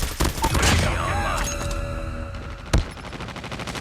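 Gunfire bursts out loudly in Call of Duty Mobile, a rapid volley at the start, then a few scattered shots and one sharp crack near the end, over game effects.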